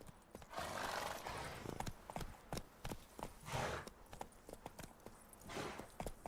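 Roach, the horse in The Witcher 3, gallops in a rapid, steady clip-clop of hooves, loud and close, with a whinny and breathy snorts mixed in.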